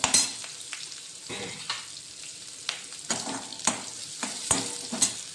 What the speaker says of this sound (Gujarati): એક નાની નાનું ડુંગળીને મેં ઝીણી સમારી લીધી છે એ સાંતળી લઈશું